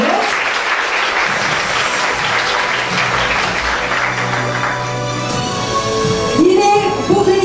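Audience at a hospital's 25th anniversary celebration bursts into loud, sustained applause, steady dense clapping that continues throughout, with a few faint voices near the end.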